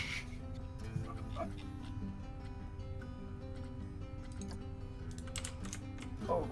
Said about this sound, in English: Sorry about the loud keyboard.